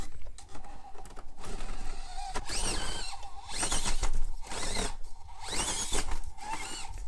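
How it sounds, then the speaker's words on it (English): Brushless outrunner motor on a Traxxas TRX4M RC crawler, a whining electric hum that rises and falls in pitch as the throttle surges, close and fairly loud, with mechanical clatter underneath. "You can see the outrunner in there spinning."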